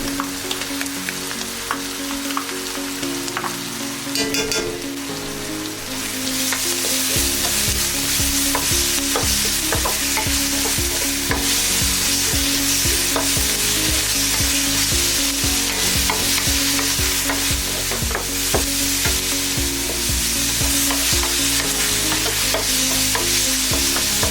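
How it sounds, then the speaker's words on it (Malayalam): Ginger garlic paste frying with curry leaves for a squid roast, a loud continuous sizzle with rhythmic scraping strokes of stirring, growing denser and louder partway through. "ഇനി ഇതിൽ ജിഞ്ചർ ഗാർലിക് പേസ്റ്റ് ചേർത്ത് ഇളക്കുക."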